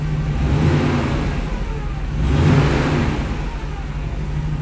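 Steady whine from a broken Chevrolet K1500 pickup idling under a canopy, a continuous droning engine hum that swells briefly midway, fairly loud and close.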